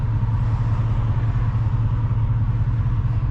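A car engine runs at a steady low rumble close by, with no distinct rise in revs across the short stretch, and no voices.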